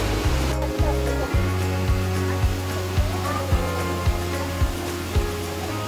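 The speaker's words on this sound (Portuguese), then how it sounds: "E tem uma cachoeira grande aqui, pelo jeito." A large waterfall roars steadily with a broad, continuous rush of water, while a regular low thumping pulse runs beneath it throughout.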